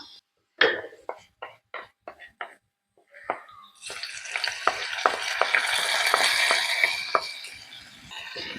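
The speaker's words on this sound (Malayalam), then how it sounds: "നമുക്കിനി ഇതിനെ നമ്മൾ നേരത്തെ റെഡിയാക്കി വെച്ചിരിക്കുന്ന പച്ചടിയിലേക്ക് ഒഴിച്ചു കൊടുക്കാം." Hot spice tempering poured into pineapple pachadi, first a few sharp spoon taps, then a sudden loud sizzle that crackles steadily and slowly fades.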